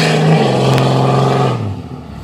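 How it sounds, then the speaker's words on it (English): A big Cummins diesel truck pulls away with its engine revving, giving a loud, close, droning roar with a strong tonal hum. The pitch drops and the sound fades out near the end as the truck moves off. "Alright, well here comes this big old Cummins"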